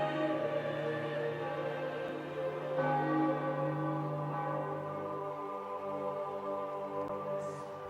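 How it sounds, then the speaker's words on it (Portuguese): Church bells ring out in Rome to mark the election of a new pope, overlapping resonant peals sustaining and decaying together at moderate distance, with no voices. "logo os sinos começam a tocar e não há mais dúvidas"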